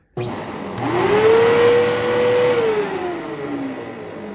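An old vacuum cleaner motor starts abruptly and spins up to a loud, steady whine that rises in pitch, holds, then eases slightly, close and continuous with no talking.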